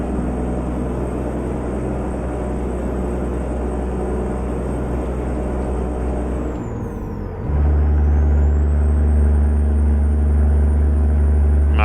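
Truck in American Truck Simulator: a steady, loud diesel engine drone with a sharp air brake hiss midway, followed by a deeper, heavier engine rumble. No talking.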